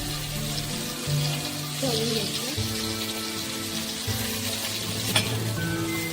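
Masala okra (bhindi) fries on a tawa with a steady, close sizzle and crackle throughout, a low hum beneath and a brief clink near the end.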